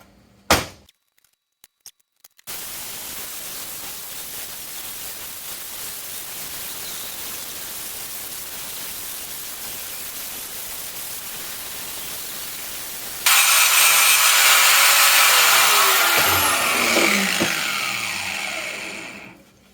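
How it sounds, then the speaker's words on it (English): An angle grinder works down an old weld on a heavy-wall rear CV drive shaft for a Jeep YJ, a loud steady hiss of grinding after a few knocks, then a harsher, brighter shriek as the disc bites metal before winding down. "We're going to grind this old weld down a little bit more."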